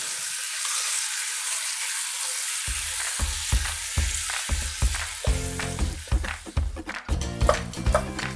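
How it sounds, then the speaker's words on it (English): Ground lamb browns in a pot with a constant hiss. From about three seconds a spoon stirs and breaks it up, adding repeated rhythmic scraping and knocking, close and with no talking. "I'm just going to stir this up and break it up and cook it until it's browned."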